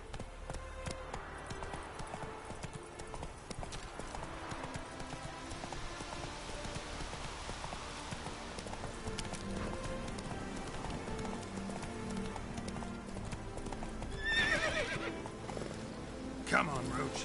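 Roach, Geralt's horse in The Witcher 3, gallops with steady clip-clopping hooves and a neigh, heard under a voice speaking in the game, with a louder hoof burst near the end.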